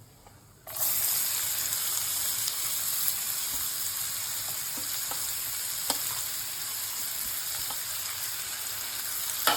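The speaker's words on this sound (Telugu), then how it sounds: "నెక్స్ట్ తరిగి పెట్టుకున్న ఉల్లిపాయలు వేపుకోవాలి" Chopped onions hit hot oil with cumin already in the pan and settle into a steady, close sizzle that runs unbroken, dotted with small pops and crackles.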